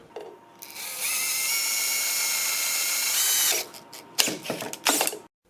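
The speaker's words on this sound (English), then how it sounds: "we're going to take our 3/8 inch drill bit, and up towards the side with the latch, we're going to drill a hole" A power drill with a 3/8 inch bit whines steadily for a few seconds as it bores a hole in a truck's console, then stops, followed by short bursts of clattering and rattling nearby.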